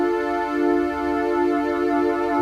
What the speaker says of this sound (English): If we introduce a subtle amount of vibrato to oscillators 1, 2 and 3, it sounds like this.